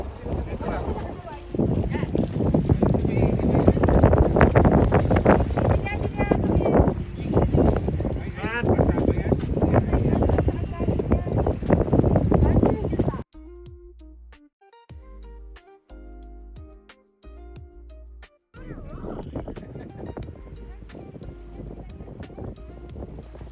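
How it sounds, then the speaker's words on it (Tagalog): Strong wind blusters across a microphone at the seaside on an island, a loud continuous roar that drops out briefly and returns, with people talking over it nearby. "Ayan, rinig nyo naman mga lods, no? Yung hangin, malakas talaga eh."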